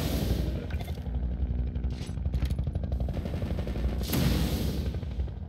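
Rapid automatic gunfire in the shooter Entropy: Zero 2, a dense, rattling stream of shots that continues across the whole stretch, with sharper louder bursts near the start and around the end, moderately distant.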